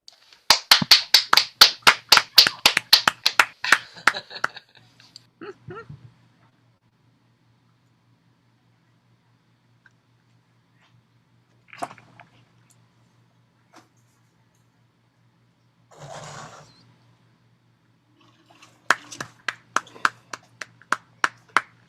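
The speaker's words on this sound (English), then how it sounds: "Little applause as the curtain goes down." Small audience applause as a curtain comes down after a musical piece: a few seconds of scattered hand clapping, then near silence with isolated claps and knocks, before another short burst of clapping at the end.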